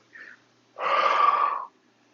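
A deep inhale during a Pilates rotation exercise: a short soft breath, then a longer, louder, steady intake of air lasting nearly a second, close to the microphone with no talking.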